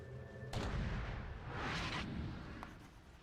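Bombs detonate in Dota 2 as two or three deep, rumbling blasts with long booming tails, fairly loud against a dense game and crowd background.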